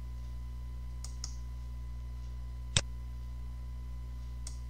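A single sharp mouse click in CAD software, stands out once in a quiet room over a steady low electrical hum, with a couple of faint softer ticks around it.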